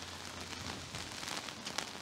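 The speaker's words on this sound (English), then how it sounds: "even still, there's a lot of rain." Rain falling steadily at Mossy Rock Dam, a soft continuous patter with scattered drips, fairly faint throughout and with no voices.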